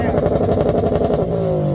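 A tuned car engine, around 600 horsepower, revs hard at a Boxerfest exhaust competition, a loud, continuous, raspy roar close by that sags slightly toward the end, with crowd voices mixed beneath.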